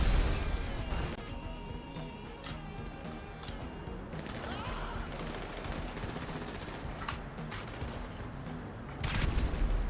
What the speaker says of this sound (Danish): nu kaster jeg bare en granat